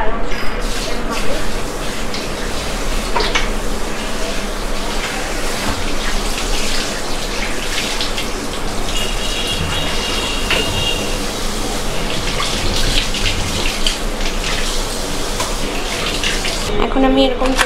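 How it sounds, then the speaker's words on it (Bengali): Raw mutton pieces rinsed under a strongly running kitchen tap, a steady loud gush of water splashing over the meat for a long stretch, with a voice talking over it now and then. "মাটনটা সবার ফার্স্ট ধুয়ে নিই।"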